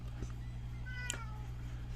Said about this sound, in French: C'est ça que je vous disais, le chat.